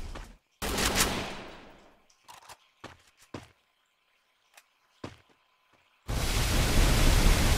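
Gunshots from the battle royale game Free Fire: a few loud, sharp blasts that fade out, then scattered short cracks with gaps between them, and finally a dense, steady roar of gunfire to the end.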